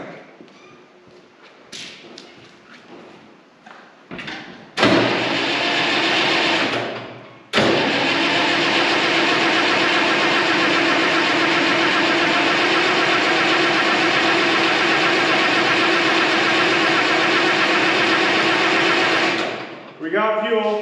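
An IH 1206 Wheatland tractor diesel engine, recently repaired after a head gasket failure, cranks with uneven thumping turns, then catches and roars loudly near the microphone, stumbling briefly before settling into a steady hard-running clatter and cutting off at the end.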